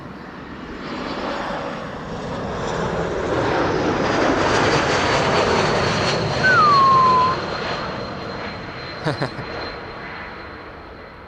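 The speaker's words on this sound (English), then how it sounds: "It's like you're hearing an E2 Embraer pass by" An Embraer E2 airliner arriving at Amsterdam Schiphol passes by, its jet engine roar swelling and fading over several seconds, loud and broad, with a faint whistle and brief clicks near the end.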